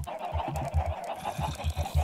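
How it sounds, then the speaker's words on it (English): Chickens in the Minecraft video game cluck in a steady run of short, repeated clucks, fairly loud and close over a soft game background, with no talking. "that's chickens are annoying the hell out of me now"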